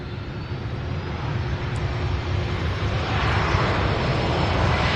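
A passenger plane landing at night at SDF airport roars steadily and loudly for the whole stretch, a broad continuous engine rumble that swells slightly toward the end, with no voices.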